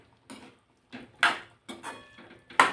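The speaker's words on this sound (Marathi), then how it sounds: "आता यामध्ये आपण ही फरसबी टाकून घेणार आहोत।" Green beans tumble into a pan of potatoes for a spiced Maharashtrian faras bi batata bhaji, giving a handful of separate clattering scrapes and knocks, some sharper than others, close and quiet, with gaps of silence between.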